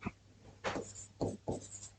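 Marker or pen strokes writing the words Assam Rifles by hand, a few short scratchy bursts separated by brief pauses, close and fairly quiet.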